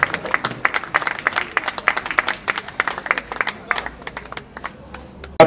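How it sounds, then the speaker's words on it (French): An audience at a live comedy show claps, the applause starting lively with sharp individual claps, then thinning to sparse, scattered hand claps, fairly close. "Sous vos applaudissements, s'il vous plaît."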